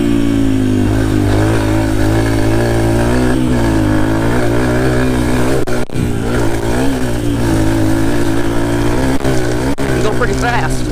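A motorcycle accelerates wide open on a racetrack in a loud, continuous engine roar close by, its pitch climbing and shifting through gear changes for the whole stretch.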